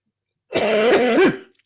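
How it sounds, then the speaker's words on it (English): A single harsh chronic cough with throat clearing, loud and close, lasting about a second, surrounded by silence. "I have a chronic cough that I've had Oh, for many years,"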